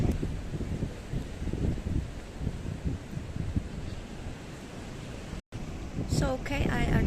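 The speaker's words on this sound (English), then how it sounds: "It is windy here," Steady wind gusting on an open seaside promenade at Playa San Juan, Tenerife, a broad rumbling roar over the microphone with a brief dropout, while a person talks throughout.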